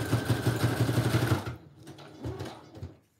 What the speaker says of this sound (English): I am going to sew this one